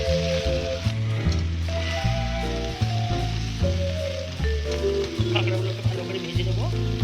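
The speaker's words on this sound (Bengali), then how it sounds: "এবার তেলের মধ্যে দিয়ে দেবো এই কাঁকড়াগুলো।" Crabs fry in hot oil with a soft, steady sizzle that sits beneath loud, rhythmic background music throughout.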